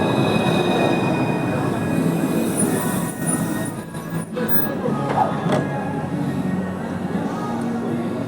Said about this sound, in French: il y a une rame qui arrive de ce côté en direction de la gare sud de France